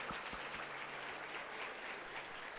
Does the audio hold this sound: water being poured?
no